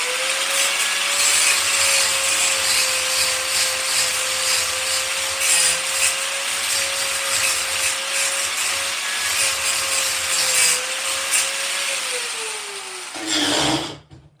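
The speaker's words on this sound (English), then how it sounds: "I'm just using a grinder" A grinder whines loud and steady at close range while shaping a metal mount for a wheelie bar on a Kraken Vesla, holding a constant pitch for about twelve seconds before dipping and cutting off.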